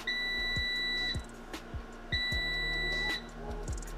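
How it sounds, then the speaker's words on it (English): Two long electronic beeps from a Power Air Fryer Oven shutting off, each lasting about a second, separated by a pause, with faint clicks and rustling in the room. "You're gonna get 5 beeps when it cut off."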